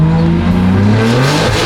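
A BMW G80 M3 engine revs hard and loud while its wheels spin without grip, a steady high-revving roar with rising harmonic tones and tire noise throughout.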